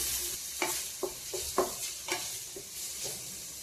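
Sliced onion frying in hot oil in a thick pan, a constant sizzle broken by a series of sharp scraping stirs every half second or so, close and clear with no talk.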